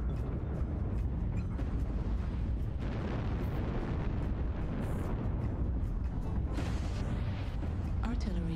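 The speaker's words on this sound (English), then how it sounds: "Artillery strike online." Dense, rumbling barrage of artillery explosions in the MechWarrior Online video game, loud overlapping booms and bursts that continue without a break, with brief game voice alerts mixed in.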